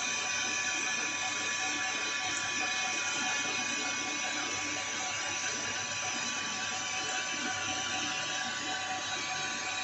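Lathe turning a bushing under automatic feed, a steady, dense mechanical whir with a constant hiss and faint ringing tones, running evenly and close throughout.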